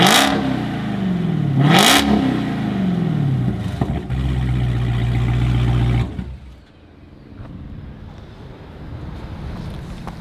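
A Dodge Challenger SRT Hellcat with a Corsa Extreme exhaust and no mufflers revs loudly up close, climbing and falling through a couple of sharp blips, then holding a steady roar before dropping to a rough, quieter idle with wind noise.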